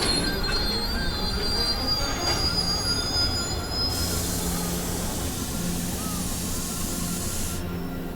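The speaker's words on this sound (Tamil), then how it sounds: "ட்ரெயின் மறுபடியும் டனலுக்குள்ள போகுது." A train runs into a tunnel with a steady metallic roar, shrill wheel squeal and hiss filling the space, loud and continuous with no voices.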